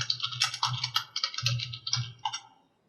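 Rapid typing on a computer keyboard, a dense run of close, crisp key clicks in uneven bursts that stop abruptly near the end.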